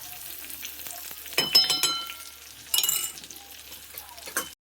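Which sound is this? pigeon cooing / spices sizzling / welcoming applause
spices sizzling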